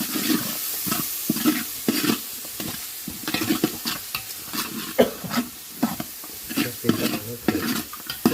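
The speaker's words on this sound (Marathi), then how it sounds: "टमाटे फ्राय करून घेऊ" Tomatoes frying in oil with spices for a fish curry, a close crackling sizzle broken by repeated stirring and scraping strokes at an uneven rhythm.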